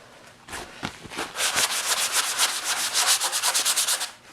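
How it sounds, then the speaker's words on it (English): A sanding block rubs over a wooden farmhouse shelf in quick, steady back-and-forth strokes, close and moderately loud, with no talk. "I am going to run over it with this sanding block real quick"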